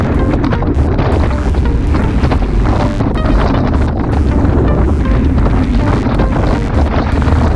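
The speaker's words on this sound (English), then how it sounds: "You can hear that wind." Strong wind buffets the microphone during a group cycling ride, a loud, constant roaring rumble with no break, and nothing else can be made out through it.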